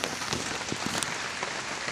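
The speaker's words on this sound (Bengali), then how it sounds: "আপনারা দেখতেই পাচ্ছেন বৃষ্টি কেরমভাবে পড়ছে" Steady heavy rain with gusty wind patters on surfaces in Purba Bardhaman, India, a dense, continuous hiss with gusty surges, no voices.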